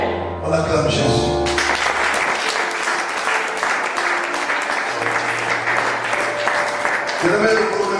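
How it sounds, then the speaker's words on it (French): A church congregation in Paris clapping in acclaim of Jesus, sustained broad applause with voices and tonal music sounding beneath it. "On acclame Jésus."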